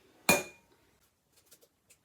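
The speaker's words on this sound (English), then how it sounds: "I'm going to separate my egg into white and yolk." An egg is cracked against a bowl to separate white from yolk while making American-style fluffy pancakes, one sharp clink followed by a few faint light taps and dribbles.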